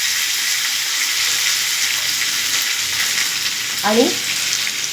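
Chopped onion with cumin and curry leaves sizzles steadily in hot oil, a loud continuous crackle throughout, with a brief scraping stir near the end and a single spoken word.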